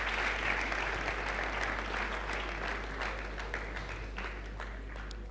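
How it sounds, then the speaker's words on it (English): Audience applause at a Nigerian economic summit dialogue session, a steady wash of clapping from a large hall that holds evenly for several seconds and tapers slightly toward the end. "Can we make the applause collaborative?"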